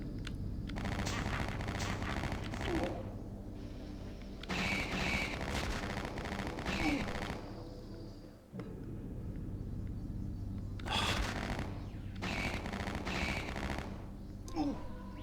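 Bursts of automatic gunfire from another player in a video game, rattling in long rapid volleys that stop and start several times, loud and close, with faint background voices between the bursts.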